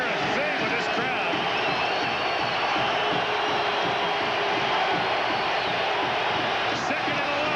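A loud stadium crowd at a 1997 CFL football game, Toronto Argonauts at Saskatchewan Roughriders, keeps up a constant dense roar, with speech mixed into the din.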